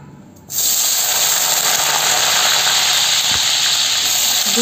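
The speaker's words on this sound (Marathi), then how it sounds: "पहिले ते बटाटे तेलात टाकायचे, हे धुवून" Washed potatoes drop into hot oil for a village-style chicken curry, setting off a sudden loud, steady roaring hiss of frying that holds unbroken to the end with no speech.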